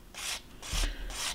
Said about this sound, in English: So I'm lightly sanding it